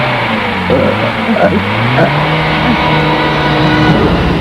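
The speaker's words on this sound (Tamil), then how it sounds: "சீக்கிரம் வண்டி எடுறா சீக்கிரம் போ" An auto rickshaw's engine revs hard and steadily as it pulls away fast in a movie scene, a loud continuous motor drone with voices faintly underneath.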